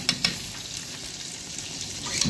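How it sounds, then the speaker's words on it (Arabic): Rice in a pot is stirred with a wooden stick over a gentle sizzle, with a couple of quick knocks against the pot at the start and another at the end. "نحط العصايه كده ننزلها عشان الرز كله يستوي في بعضه"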